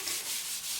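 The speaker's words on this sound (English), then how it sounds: "I'll give it a wipe over with some white mineral spirit" A cloth soaked in white spirit rubbing over an old waxed wooden table, a steady close hiss of wiping strokes with no talk.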